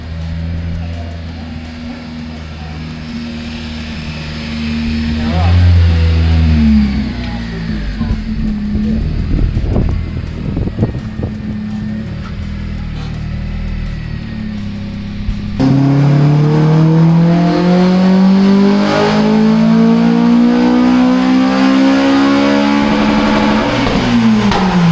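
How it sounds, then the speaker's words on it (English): Honda FN2 Civic Type R, naturally aspirated, roars loudly on a dyno, first idling and blipping, then revving hard in a long rising pull with a steadily climbing engine note and no talk. "So let's get it on the dyno, see if we can crack that 240"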